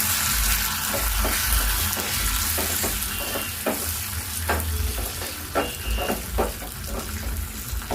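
Cumin, mustard seeds, dried chillies, fenugreek and curry leaves tempering in hot oil for home-style pappu charu, a steady sizzle broken by sharp crackles and pops spread across the whole stretch, with no voices.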